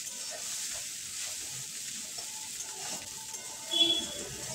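Egg pasta frying in a pan: a soft, steady sizzle at low volume, continuous throughout with a small flare near the end.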